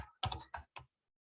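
A short burst of typing on a computer keyboard, four quick close keystrokes and then silence.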